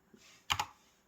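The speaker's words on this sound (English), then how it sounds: "what we'll type in here is the message join" Keystrokes on a computer keyboard while a join message is entered for a network node, a faint tap followed by two sharp clicks in quick succession and another click at the end, with no talking.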